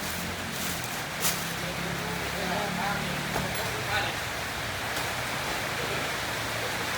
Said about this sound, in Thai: อ้าวฝนตกอีกแล้ว